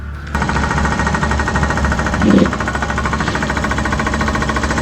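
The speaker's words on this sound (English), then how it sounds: "we're obviously hammering away at the rock" Heavy equipment hammers away at rock on a worksite, a loud, continuous rapid pounding like a jackhammer with a deep engine drone underneath, steady throughout.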